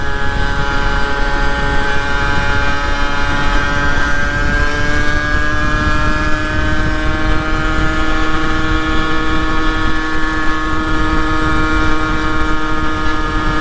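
A 2023 Rieju MRT50 Trophy SM Pro 50cc supermoto engine holds a loud, steady high rev on its own, its buzzing pitch climbing slowly and evenly throughout.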